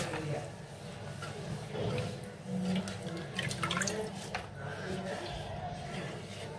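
Red amaranth greens are washed in water, with running splashes and drips at a sink, soft and close, while a person talks over it.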